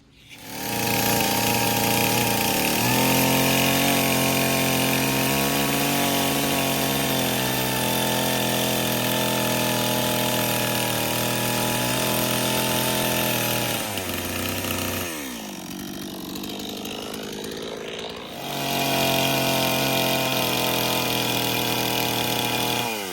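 A chainsaw with skip-tooth chain bores into a log for an Alaskan hybrid log home, its engine snarling loud and steady under load, dropping to a lower idle for a few seconds before revving back up.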